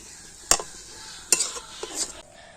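A chhana mixture is worked with ghee in a pan for homemade sweets: three close, distinct scraping strokes of a spatula over a light sizzle.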